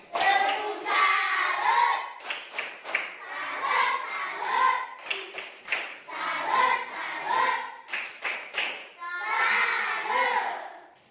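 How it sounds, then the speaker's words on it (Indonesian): Children in a classroom perform a rhythmic tepuk salut group clap for group 2, bursts of chanted voices interspersed with sharp, patterned hand claps in sequence, fairly close and lively. "tepuk salut untuk kelompok 2"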